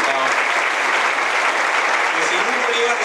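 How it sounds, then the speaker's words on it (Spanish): A crowd applauding the deputies at a political assembly, heard as dense sustained clapping from start to finish, loud and close. "que les pido un aplauso para el esfuerzo de todos nuestros diputados"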